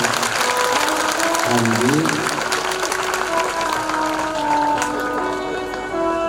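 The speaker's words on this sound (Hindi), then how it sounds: "एक बार जोरदार तालियों से सभी लोगों के लिए।" Loud, dense applause from an audience at a Bhagavat Katha recitation held at a Durga temple, with scattered voices and tones layered over the continuous clapping throughout.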